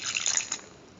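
A short splash of water is poured into flour for dough, a bright, close pour lasting about half a second and then fading out.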